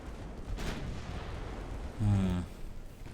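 Naval gunfire in the warship battle game Ultimate Admiral Dreadnoughts, with muffled broadband booms over a steady low rumble and a louder blast with a ringing tone near the end.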